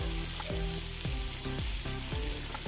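Homemade ghee melting and sizzling in a kadai on a gas stove, a constant close fry hiss broken by regular scraping stir strokes, with no talking.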